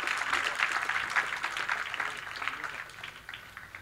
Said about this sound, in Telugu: గట్టిగా చప్పట్లు కొడుతూ మనం కృతజ్ఞత తెలుపుదాం